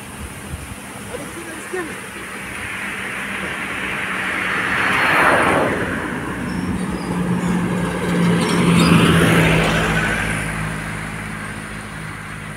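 A vehicle passes along a mountain road, its engine rumble swelling to a peak around mid-clip and again a few seconds later as a broad whoosh, with people talking over it.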